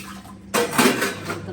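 Dishes, pots and cutlery clatter and scrape during household washing, a burst of clinking and rattling metal and crockery starting after a quiet moment and continuing close by without talk.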